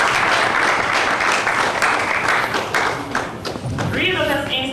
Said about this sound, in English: You can just give them a round of applause.